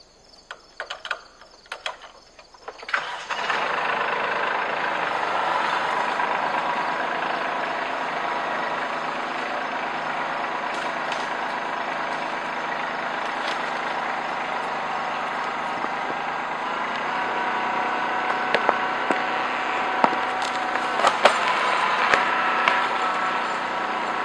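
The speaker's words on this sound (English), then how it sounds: "So now I'm just going to ease it forward and see what happens." A Kubota B2650 compact tractor strains steadily with a mid-range engine drone while pulling a six-inch oak tree from loosened dirt, the tone holding near and constant after a quiet start, with faint creaks and snaps of ripping roots.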